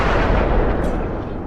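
Loud cruiser gunfire in World of Warships, a heavy booming blast with a rumbling decay as shells score citadel hits, close and dominant, with no talking.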